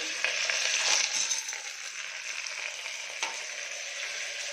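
Chillies, onion, ginger, garlic, green peas and corn frying in a pan, a bright, dense sizzle that starts strong, eases slightly, and carries on steadily with an occasional stir.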